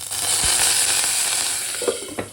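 A steady, bright sizzle of curry leaves, cumin, mustard seeds and dried red chillies crackling in hot oil, with a few light pops and taps near the end.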